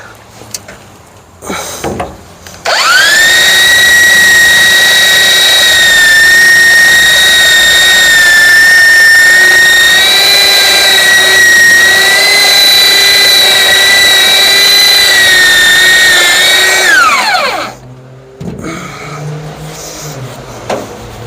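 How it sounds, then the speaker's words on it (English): A belt sander works across a wooden bed frame under restoration, spinning up to a loud, steady, high whine that holds for about fifteen seconds before winding down, with quieter handling noises before and after. "my belt sander fits in there nicely. Let's try that."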